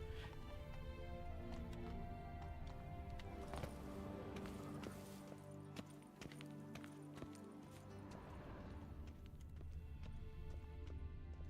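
Roach the horse galloping in The Witcher 3, a steady stream of hoofbeats under a dense, continuous layer of game music and ambience with no clear pauses.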